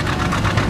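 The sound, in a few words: Waterloo steam engine running a shingle mill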